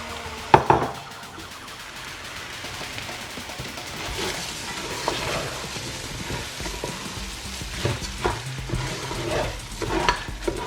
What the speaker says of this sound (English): I'm gonna add this into the corned beef and mix it together.